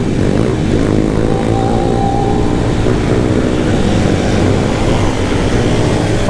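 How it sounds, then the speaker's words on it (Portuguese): Many motorcycles climbing a hill together, their engines blending into a steady, loud drone with a rising whine and rough low rumble throughout, no talk. "Já tem muita moto subindo"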